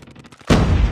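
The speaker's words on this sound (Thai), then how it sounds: "โอ้ยิงทะลุหน้าต่างอีก" Gunfire in Call of Duty Mobile during a CDSI group stage match: a quick run of faint, light taps gives way to a sudden loud, booming blast that holds, then a second heavy shot hits at the end.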